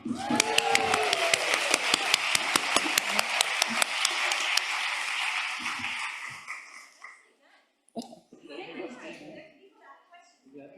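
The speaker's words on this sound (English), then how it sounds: "Give ourselves a clap." Conference attendees at a talk on environmental justice for batteries clap in an even, rhythmic beat that fades out after several seconds. A voice sounds at the start, and speech resumes afterward.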